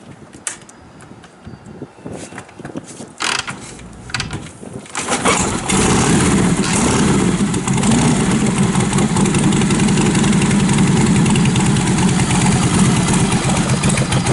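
A Harley-Davidson Knucklehead engine is kicked over with a few scraping, creaking strokes, then fires and settles into a loud, steady, close idle that runs to the end, with no talking.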